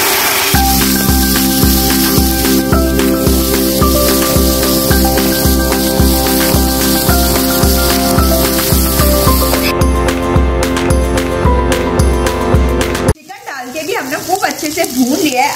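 Bone-in chicken sautéed in a gravy masala for a carrot chicken curry, sizzling loudly and continuously in the pan with a rhythmic pulsing as it is stirred, the frying hiss shifting near the end.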